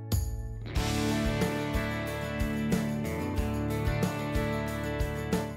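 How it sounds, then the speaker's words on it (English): A full country band backing track with steady drums, strummed guitars, bass, steel guitar and bright sustained fiddle lines, playing continuously with no vocals. "And all those instruments put together in a background track sounds like this."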